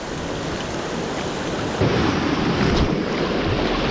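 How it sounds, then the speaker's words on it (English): Heavy UK sea swell and a fast incoming tide surge around coastal rocks, a loud continuous wash and rumble of water with wind, swelling louder partway through. "That tide is absolutely racing in at scary speed."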